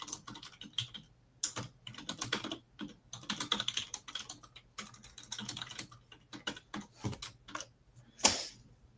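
Typing on a computer keyboard for a live chat: steady, uneven bursts of close keystrokes that run on for several seconds, quiet and dry, with no one speaking.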